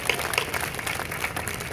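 At a Hindi poetry gathering, the crowd gives a brief round of applause for the poet Hasim. The clapping is moderately loud and lasts close to two seconds.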